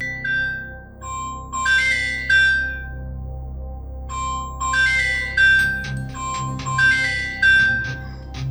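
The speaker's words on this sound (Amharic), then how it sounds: "ስልክ እኮ እየጠራ ነው።" A phone rings with a repeating electronic melodic ringtone, bursts of bright tones separated by short pauses, loud and close against a quiet room, with no voices.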